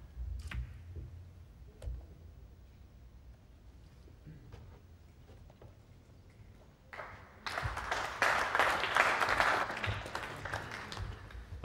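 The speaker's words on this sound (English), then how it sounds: "Applause, but this is a tester." Spectators at the World Pool Masters in Kielce break into applause at a pool match, a burst of clapping that swells up after a quiet stretch broken only by scattered clicks and ticks.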